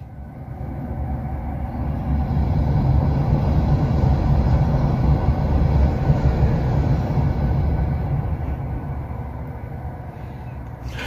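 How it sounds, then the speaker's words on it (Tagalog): A Japanese bullet train rushes past at high speed, a loud, steady roar that swells and holds for several seconds before easing slightly as it recedes. "Tingnan natin yung mapapadaan ulit tayo ng bullet train mga kalabarkada."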